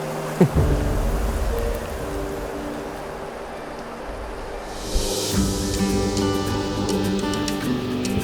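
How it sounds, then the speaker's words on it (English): Steady rain falls throughout, a dense hiss of drops with a soft thud early on and a brighter patter in the second half. "A little less rain, but we'll take it."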